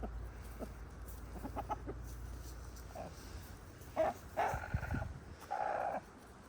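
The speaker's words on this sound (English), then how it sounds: "DeLorean, I don't know what you're squawking at." Chickens out in the snow give faint, scattered clucks and a few louder squawking bursts near the end, set against quiet outdoor background noise.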